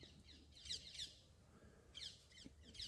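Small birds outdoors give repeated high chirps and squawks in short bursts, faint and somewhat distant over a low background hum.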